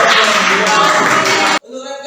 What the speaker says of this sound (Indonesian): berikan tepuk tangan buat mereka ya